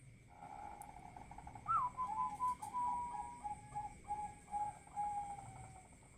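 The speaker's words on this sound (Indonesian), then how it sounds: "ya macam-macam suara burung" Birds calling near a Bangkok zebra dove chick enclosure, a whistled call sliding down and repeating over a steady background hum, moderately faint.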